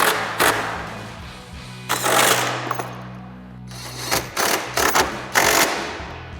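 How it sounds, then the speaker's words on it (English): Ratcheting and tightening of a 13mm socket wrench with extension on fog light bolts of a 2021-2023 Ford F-150, in several rapid clicking bursts separated by short pauses, close and loud. "Now we'll tighten these back down with our 13mm socket and extension."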